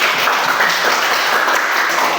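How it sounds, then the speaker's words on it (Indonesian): Children in a classroom lesson on plant parts clap their hands together, a loud, continuous burst of dense clapping filling the whole moment. "Tepuk tangan untuk kita semua dulu"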